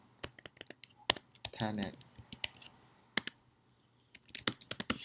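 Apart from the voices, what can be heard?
typing commands on a computer keyboard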